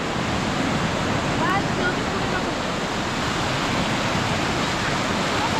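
Surf on Chivala Beach in Malvan washes in a steady, dense roar, close and continuous, with no clear breaks between waves and wind mixed into the noise.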